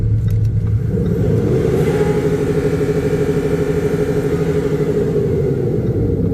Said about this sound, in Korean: 이게 배기 튜닝이 되어 있는데 아주 소리 끝내줍니다